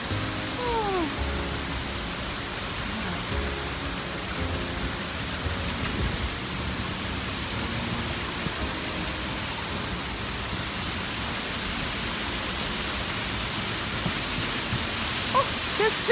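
A waterfall at the Orridi di Uriezzo gorge produces a constant broadband roar of rushing water, steady and full throughout with no pauses, a few faint bird chirps above it and no talking.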